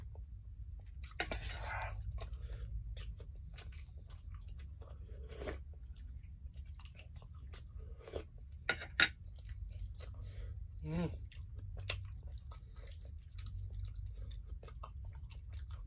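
Tender, slow-boiled pork bone meat from a spicy Thai lime-and-chili soup is bitten and chewed in soft, irregular wet clicks and crunches, close but faint over quiet background noise.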